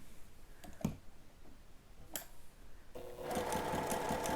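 Home sewing machine stitching a dress sleeve ruffle to its lining: a few single clicks, then the motor starts and keeps up a rapid, steady mechanical whir with stitch ticks, close and clear.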